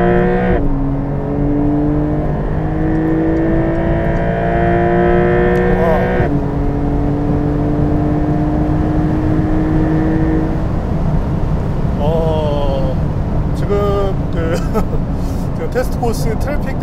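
Porsche 911 Carrera GTS Cabriolet (2023) accelerating hard on a high-speed test course section in Sport Plus, engine note rising steadily through the gears with quick shift breaks, loud and continuous from inside the car.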